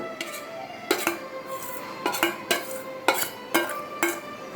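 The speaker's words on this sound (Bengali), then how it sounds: "দিয়ে দিচ্ছি এখানে ভিজিয়ে রাখা, তারপর বেটে নেওয়া মুসুর ডাল।" Soaked, ground red lentil (masoor dal) paste goes into a pan for musur dal bharta, followed by regular spoon-on-pan scraping and tapping strokes about once a second over a faint sizzle.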